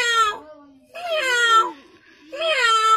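A man on a Hindi talent show imitates a cat, giving three drawn-out, whiny meows in quick succession, close and loud with short pauses between them.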